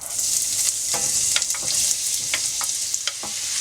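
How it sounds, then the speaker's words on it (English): Chopped onions sauteing in a large pot of olive oil over medium-high heat, a steady close sizzle with intermittent scraping and stirring clicks from a utensil throughout, no voices. "And then we're going to saute these until they're tender."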